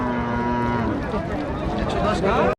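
A cow at a busy Rajshahi cattle market before Qurbani gives a loud, close, drawn-out moo lasting over two seconds, with crowd chatter underneath.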